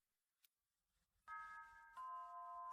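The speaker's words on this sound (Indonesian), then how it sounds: "bel sekolah udah bunyi" An electronic school bell chimes in two sustained ding-dong tones after a faint click and near silence, ringing clearly and loud in an Indonesian high school setting with no talk over it.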